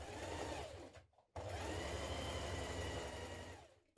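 A sewing machine stitches the centre back seam of a long coat at a 1.5 cm allowance, running steadily and close, with one brief pause near the one-second mark before the whirring resumes.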